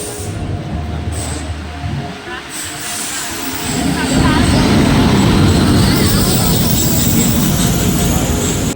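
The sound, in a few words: passenger train to Coimbatore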